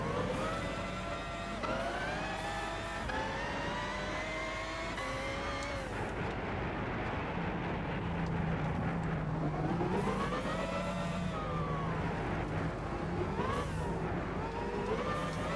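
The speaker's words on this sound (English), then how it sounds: "It is good to see like an actual race with rally cars." Rally car engines roar continuously in Gran Turismo 6, with several cars revving and shifting through rising and falling pitches as they race together, loud and close throughout.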